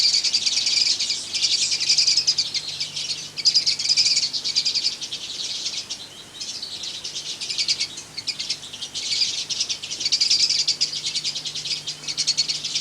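Show birds in an aviary keep up a dense, continuous high chirping and twittering, many birds at once at moderate distance, with no talking.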